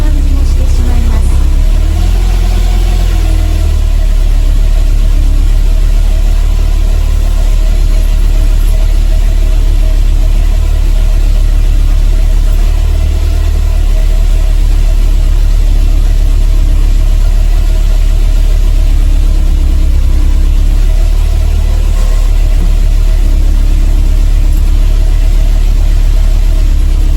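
Mercedes-Benz 190E W201 with an M102 engine, prone to starting trouble, starting normally and settling into a steady, close, loud idle rumble throughout, with someone talking over it.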